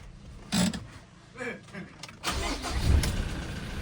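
An engine cranks and starts on a car fitted with a nine-year-old battery, with short bursts of effort followed by a steadier running rumble, heard close under people talking.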